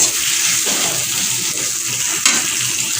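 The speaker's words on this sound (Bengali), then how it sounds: "এইদিকে হচ্ছে ফোড়নটা শুকনো লঙ্কা তেজপাতা পেঁয়াজ কাঁচা লঙ্কা টমেটো একটু ঘিও দিয়েছি" A tempering of dried chilli, bay leaf, onion, green chilli and tomato in ghee sizzles steadily in a pan, a constant close hiss with a few small stirring knocks.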